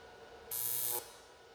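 A welder strikes a single short tack weld on custom turbo intercooler piping for a BMW E30, a brief harsh crackling buzz of about half a second against a quiet background, with no talk.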